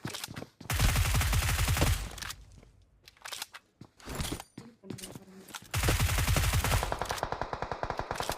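Video game gunfire from a UMP and a shotgun in a battle royale match, with long loud bursts of rapid automatic fire, a quieter stretch of scattered shots in between, then another heavy burst.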